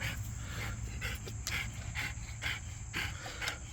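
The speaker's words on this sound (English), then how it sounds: "Sorry for my dog. She loves roaming." A dog pants rhythmically and close by during a starter replacement on a Craftsman riding mower with a Kohler Courage 20 hp engine, with quick, even breaths and occasional snorts.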